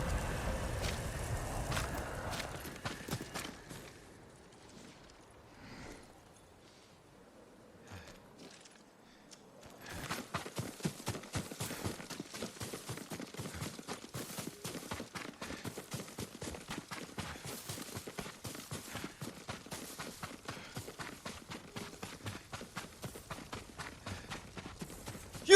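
Yuriko's horse trots along in Ghost of Tsushima: a steady, even run of hoof clip-clops that starts faintly, then becomes louder and denser after a quiet stretch, with no one speaking.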